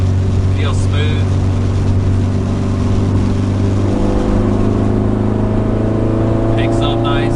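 Car with a K20A engine and fresh transmission fluid pulls under load with a loud, steady, close drone, a brief shift sound near the start and end, and a person talking over it.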